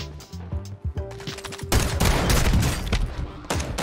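Rapid gunfire in a Call of Duty battle royale gunfight, with loud bursts of automatic shots rattling close by and continuing densely through most of the moment, no talking.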